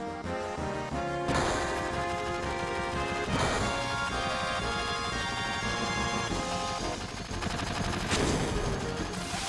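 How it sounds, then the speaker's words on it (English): Heavy bursts of gunfire and explosive crashes from the video game Final Fantasy VII over a loud, dense music score, with repeated impacts sustained throughout. "Gunfire."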